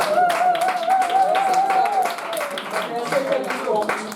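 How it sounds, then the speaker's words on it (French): A church congregation applauds for a brother during a service, a dense burst of clapping over a few seconds mixed with voices and a sustained tone underneath. "On va applaudir pour le frère."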